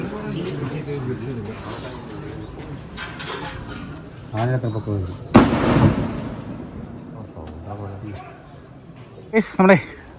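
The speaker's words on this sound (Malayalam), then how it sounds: "ആരൊക്കെ പടക്കം ഇങ്ങനെ പൊട്ടിച്ചുകൊണ്ടിരിക്കുകയാണ്" Sharp bangs and crackling bursts of firecrackers ring out intermittently, set off to drive a wild elephant in Wayanad, a loud cluster near the middle and another near the end, over a crowd murmuring and talking.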